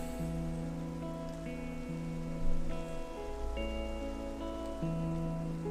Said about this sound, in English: so I can get rid of the rain